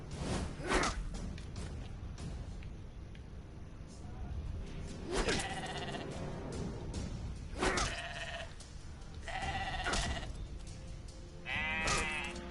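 Sheep bleating in an RPG video game battle, several short bleats scattered among whooshes and game effects, with a voice talking throughout.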